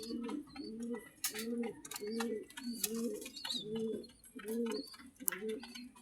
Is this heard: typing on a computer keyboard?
no